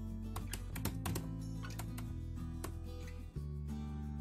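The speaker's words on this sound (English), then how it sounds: "Now to install TensorFlow, just simply type python-m then pip install" Keystrokes on a computer keyboard typing a pip install command for TensorFlow on a Windows PC, a quick irregular run of near clicks over a steady background music bed.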